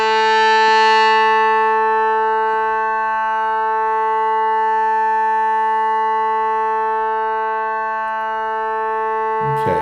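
A sustained synth pad with pulse width modulation and synced oscillators holds one steady tone with a slowly shifting, hollow timbre that gently swells and sways, then cuts off at the end.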